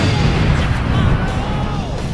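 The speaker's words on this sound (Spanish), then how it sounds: "La pantalla empieza a temblar y la explosión es poderosa." A huge energy ball explodes in a Sonic.exe game, a loud, dense rumbling blast that fills the whole clip with a sustained roar and fades slightly toward the end.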